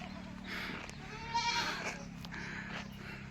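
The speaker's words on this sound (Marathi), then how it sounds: "तिथं बकऱ्या पण आहेत सात ते आठ बकऱ्या आहेत" Goats bleat at close range on a farm, with a few wavering calls over a steady background murmur.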